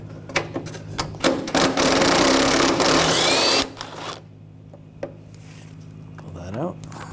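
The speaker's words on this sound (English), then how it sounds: "Underneath here, you're going to use a 10mm socket." A 10mm socket on a ratchet works a screw loose from the headlight assembly of a 2014-2020 Nissan Rogue, giving a rapid ratcheting burst of about two seconds, followed by a few close clicks and handling noises.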